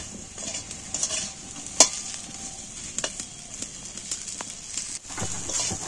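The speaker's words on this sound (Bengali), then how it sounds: "একটু তেলটার মধ്যে নাড়াচাড়া করে ভেজে নিচ্ছি" Okra stirred and fried in oil in a kadai gives a soft, continuous sizzle, broken by scraping clicks and taps from the spatula, close and fairly quiet.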